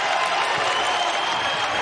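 Wichita State basketball fans cheer and applaud inside the packed HTC arena during a comeback run against Liberty, a dense, steady crowd roar with no breaks.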